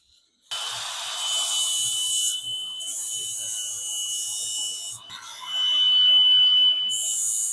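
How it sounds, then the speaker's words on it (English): Angle grinder cutting through an old cheap socket in a home garage, a loud steady high whine with a couple of brief dips as the cut proceeds, close and alone with no talk. "But first, grinder time."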